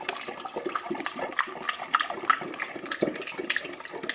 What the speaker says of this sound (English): we're just pouring some apple juice into the demijohn